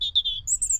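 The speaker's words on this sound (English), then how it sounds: "All you can hear is a bird, which is directly behind me." A small bird calls from close by in a peaceful, quiet town in Sedbergh, Cumbria: a run of high, clear chirps and whistles, steady and continuous, with a faint low rumble of background underneath.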